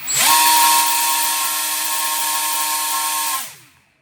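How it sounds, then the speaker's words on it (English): An RC motor spins a Master Air Screw 6-inch three-bladed fixed propeller, giving a loud, steady whine that revs up fast, holds for about three seconds and then winds down; nothing else is heard. "The Master Air Screw 6-inch 3-bladed fixed propeller."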